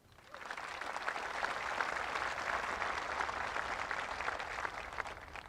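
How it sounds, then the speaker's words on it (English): Broad, steady applause from a large outdoor crowd at a military regiment graduation ceremony, honoring the band and cannon crew, sustained clapping throughout with no other sounds over it. "Please join me in a round of applause for the band and the cannon crew."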